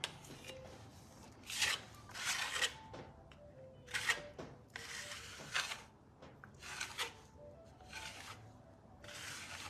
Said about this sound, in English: I could trowel all day.